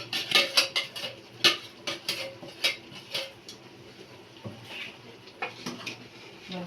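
A metal spoon stirs spice paste into biryani in a pressure cooker pot, giving quiet, irregular clinks and scrapes against the metal in a steady stirring rhythm, with no talk.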